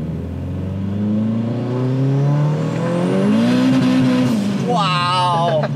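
A 400hp front-wheel-drive Proton Putra accelerates hard, its engine note climbing steadily through the revs, loud and close from inside the car, before a voice breaks in near the end.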